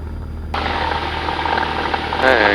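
A Cessna 172 engine is pushed to full takeoff power, its steady droning roar jumping abruptly louder and staying strong, close and continuous, with a brief rise near the end.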